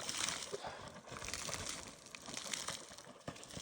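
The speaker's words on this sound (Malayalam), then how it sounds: "ഈ കാലിൽ ചെളിയൊക്കെ ഒന്ന് അവിടെ ഇത്തിരി കഴുകാം." Water splashes and sloshes as mud is washed off someone's feet, a quiet, close, irregular run of pours, trickles and wet rubbing with no talking.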